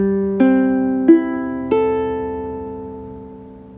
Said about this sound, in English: if you tune the ukulele regular tuning and strummed open strings, it would sound like this